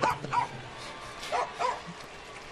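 A big dog at a baseball game gives a few short yips and whimpers at a moderate distance, heard over a steady crowd murmur.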